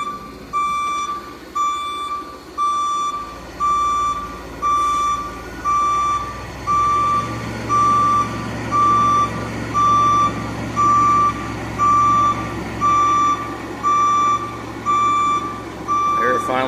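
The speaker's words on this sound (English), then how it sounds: "If this beeper gets crazy annoying." A reversing beeper on a Case Extendahoe backhoe pulses steadily at close range, its high tone repeating about once a second for the whole stretch, over a low diesel engine rumble that deepens partway through.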